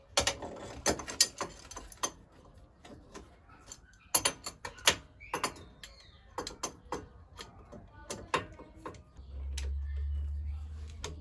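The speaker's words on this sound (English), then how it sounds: "Crankshaft pulley counterhold tool." Mechanic's tools at work on a Mini Cooper engine while the crankshaft pulley is removed with a counterhold tool: scattered sharp metallic clicks and ratcheting knocks, close up, followed by a low steady hum near the end.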